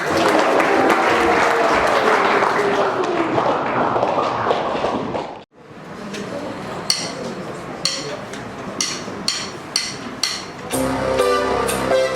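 An audience at a school music recital bursts into loud, dense applause, then it breaks off abruptly and a drum kit starts, with crisp cymbal hits and steady, separate drum strokes.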